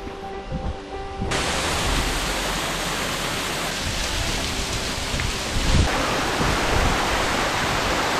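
A small waterfall on the cliffside Tiger Leaping Gorge trail in Yunnan rushes loudly and steadily close by, its broad roar starting abruptly after a quieter opening second and then holding constant.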